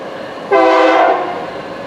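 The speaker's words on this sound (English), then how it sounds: "it's the train." Faint rumble at first, then a passing train's horn blares suddenly: a loud, steady tone that trails off gradually, with nobody speaking.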